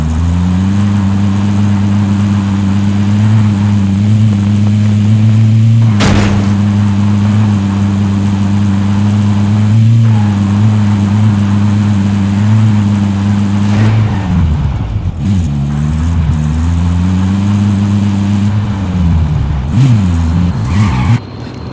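A car engine from the video game Call of Duty Modern Warfare drones loud and steady, its pitch rising and falling as the vehicle drives, with a few sharp bangs and tire-skid sounds.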